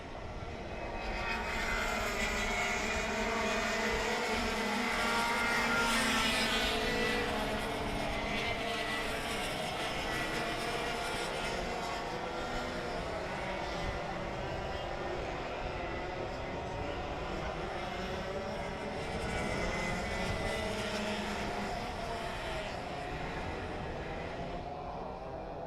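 Racing karts at the 2020 Carnival of Karts run down the Arise Racing main straight, a continuous droning engine roar of several machines that swells and holds steady throughout, with faint commentary beneath.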